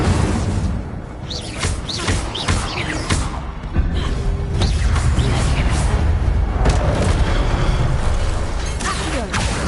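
Fiery whooshes and bursts of an Incendio fire spell cast in a video game, landing repeatedly amid loud mechanical clatter and booming effects that run continuously.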